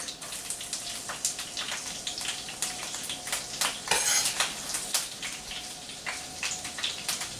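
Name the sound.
garlic thrown into melted butter in a pan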